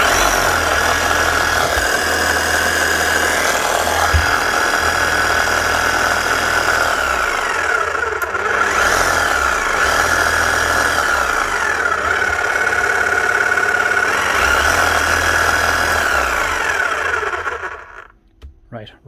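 A Makita HR1111C rotary hammer under repair runs slowly with its motor whirring steadily, a continuous mechanical drone with a faint rattle that then winds down and stops.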